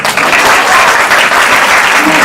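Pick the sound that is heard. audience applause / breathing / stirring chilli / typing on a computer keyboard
audience applause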